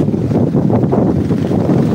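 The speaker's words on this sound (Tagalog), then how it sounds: "Lakas na hangin." Strong wind buffets the microphone in a loud, continuous roaring rush with no pauses and no voices.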